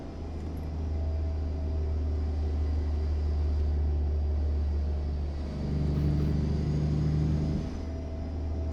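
A modded heavy truck engine in American Truck Simulator drones with a deep, steady rumble, swelling briefly as it revs up around the middle before settling back, with no talking.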